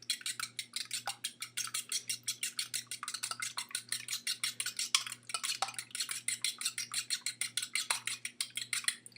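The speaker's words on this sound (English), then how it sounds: "I cracked one egg into a bowl, and I'm just going to whisk it up really well" A cracked egg is whisked in a bowl, fast steady ticking strokes of the whisk against the bowl repeating in a quick even rhythm, close and continuous over a low faint hum.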